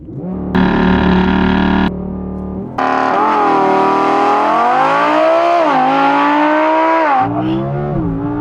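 A 2017 Audi R8 V10 Plus launches hard on winter tires, the V10 roaring loud and close, climbing in pitch through rapid automatic upshifts with brief dips between gears.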